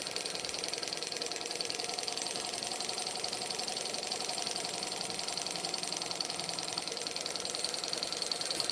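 Small Stirling engine driving a model helicopter's rotor through a gear, running with a steady, even mechanical whir and light rhythmic clatter throughout, fairly close and constant, with no talking.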